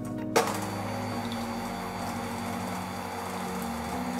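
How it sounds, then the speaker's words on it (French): An electric mixer whisking egg whites into a classic French meringue for chocolate mousse: a steady mechanical whir, close and continuous, after a brief knock at the start. "Je vais à présent réaliser une meringue vraiment de manière classique en montant les blancs en neige"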